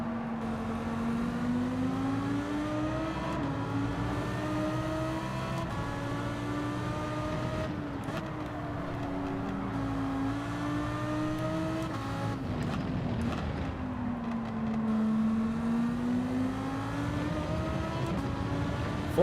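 Toyota Supra race car engine in the video game Gran Turismo 7, a steady loud drone whose pitch rises and falls through gear changes and revs, continuous and close throughout.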